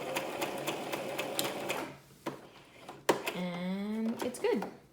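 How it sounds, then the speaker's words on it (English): A sewing machine back stitches a fabric face mask with a filter pocket and wire, running in a steady fast rattle for about two seconds before stopping, with a couple of later bumps and a voice speaking over the second half. "now I'm going to back stitch"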